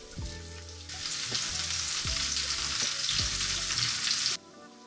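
Large chunks of garlic hitting hot oil in a pan for a paneer gravy, a sudden loud sizzle that hisses steadily for several seconds over faint clinks, then cuts off abruptly.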